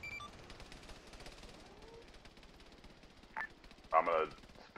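Anti-aircraft guns open up in Arma 3, a dense, sustained rattle of rapid fire that runs steadily from start to finish. Short voices cut in near the end.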